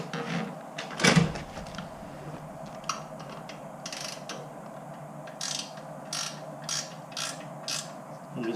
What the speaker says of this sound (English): I'm going to tighten up the muffler.